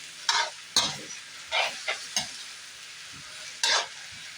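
A spatula scrapes and tosses luffa with egg in a hot pan, giving a string of separate stirring strokes over a soft sizzle, close and moderately loud.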